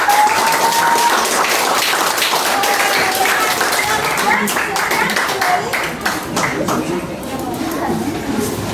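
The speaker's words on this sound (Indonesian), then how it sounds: "kita beri aplaus dulu untuk kelompok 2" Classroom applause for the second group after their presentation: a dense, steady patter of many hands clapping at once, loud and continuous throughout, slightly thinning toward the end.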